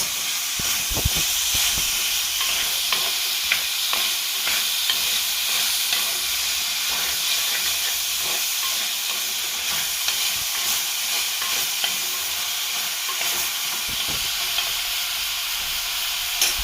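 Onions for a beef curry sizzle steadily in a hot pan, a bright frying hiss with occasional scrapes and stirring knocks, and nobody speaks.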